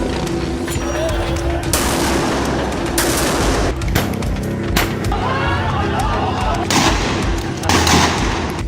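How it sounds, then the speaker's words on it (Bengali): Police gunfire aimed at protesters cracks out in repeated bursts and volleys over loud, noisy street ambience. Voices can be heard mixed in with the shots. "বিভিন্ন স্থানে আন্দোলনকারীদের লক্ষ্য করে গুলি ছোড়ে পুলিশ।"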